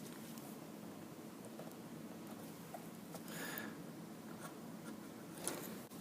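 Pencil sketching an eye screw on paper, a soft continuous scratchy graphite rasp with a few brighter strokes, close and steady throughout with no voices.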